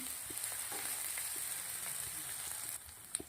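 A pan of chopped bell pepper and chillies sautés with a soft, continuous sizzle and faint occasional stirring taps, fairly quiet and close with no voices.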